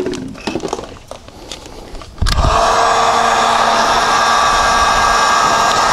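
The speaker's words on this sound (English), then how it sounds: "get our heat gun going, get it warmed up" A heat gun for window tinting switches on after about two seconds of quiet handling noises, then a steady loud blowing roar with a constant motor hum runs close by to the end.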